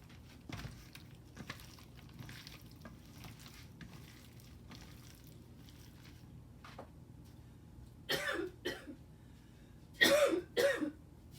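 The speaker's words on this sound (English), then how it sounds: "My face was just a little too close, so it made me cough." A person coughs several times after getting too close to cayenne pepper while cooking, with a cluster of sharp, fairly close coughs near the end following quiet kitchen sounds.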